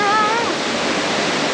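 Waterfall at Monasterio de Piedra pouring down in a steady, loud, broadband rush of falling water, close by, with no break.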